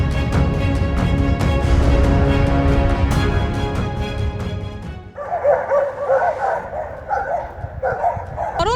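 Stray dogs bark in a residential complex, a dense run of overlapping woofs and yips for several seconds, then thinner, more distant barking with some whimpering under background noise.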